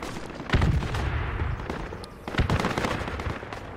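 Gunfire spraying at enemies in Project Reality, loud close bursts of rapid shots with a sharp volley near the half-second mark and another around two and a half seconds, crackling irregularly in between, with no speech.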